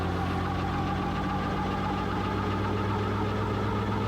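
The engine of an ELA 07 gyrocopter with its rotor engaged runs up in revs, a loud, continuous droning hum with steady harmonic tones and rough vibration close by.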